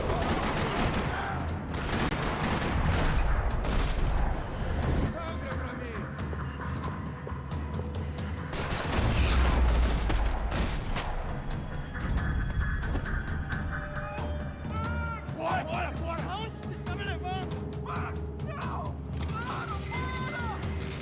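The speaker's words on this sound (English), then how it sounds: "Another parking lot rattling with gunfire." Sustained rattling gunfire fills a parking lot shootout in the video game Max Payne 3, loud bursts with mechanical clatter and creaks, swelling and easing over about twenty seconds with no talk.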